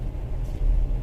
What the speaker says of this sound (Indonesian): bannya itu bunyi dengung terus